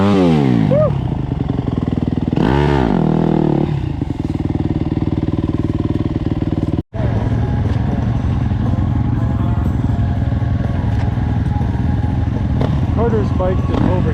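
A 450 dirt bike engine revs hard on a steep hill climb, loud and continuous, with a droning roar and rising pitch sweeps, and people shouting over it.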